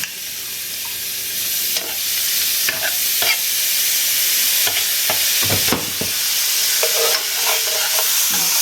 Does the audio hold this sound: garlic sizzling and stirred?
yes